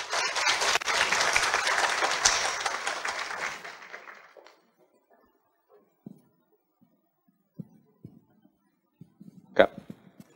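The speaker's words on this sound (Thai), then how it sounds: "ขอเรียนทุกท่านปรบมือแล้วก็เป็นเกียรติให้ท่านด้วยครับ" An audience applauds to welcome a CEO at a corporate sharing event, the clapping strong for about four seconds before fading out into near silence, followed by a few scattered faint knocks and one sharper tap.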